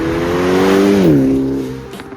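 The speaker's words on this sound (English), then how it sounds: "And then AFE Takeda catback exhaust." A car with an AFE Takeda catback exhaust revs loudly and close, its droning tone rising and then easing off as the rev fades.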